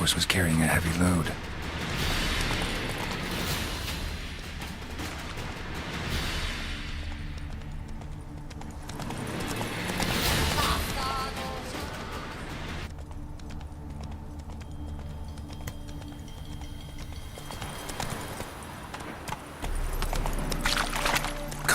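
Horse hooves clip-clop along a forest road in The Witcher 3: Wild Hunt, a rhythmic patter in the game's mixed ambience that swells and fades over the stretch.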